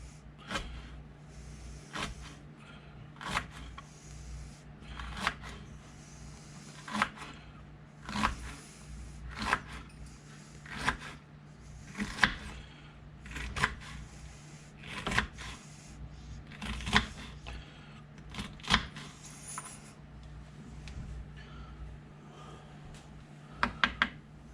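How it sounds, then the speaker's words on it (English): Jalapeños sliced thin with a knife on a cutting board, a regular series of soft, close chopping taps over a quiet background. "Now we take these jalapenos and we're gonna cut them up"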